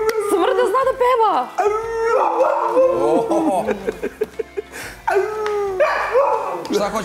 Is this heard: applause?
no